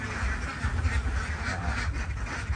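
Khaki Campbell ducks on a small backyard egg farm, a flock quacking in loud, overlapping bursts close by.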